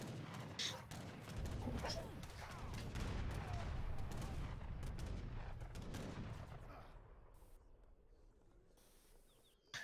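Cannons and war wagons firing in an Age of Empires III match, a dense, continuous clatter of gunfire and blasts under a commentator's voice, fading toward the end.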